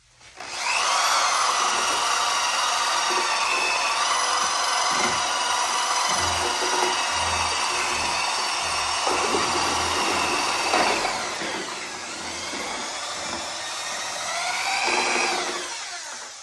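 A steady, loud drill whine runs continuously while mixing glaze in a bucket, dipping briefly in pitch partway through before rising again, with faint knocking underneath.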